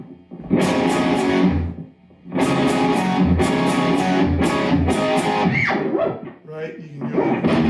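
An electric guitar plays through a Fender amp with a boost pedal clone engaged and reverb turned down, loud, driven chords sounding in bursts with brief pauses between phrases.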